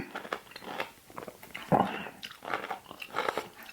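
Someone eats spicy Thai-style fish soup up close, with a run of soft irregular bites, chewing and slurping crunches spread evenly across the stretch. No talking is heard.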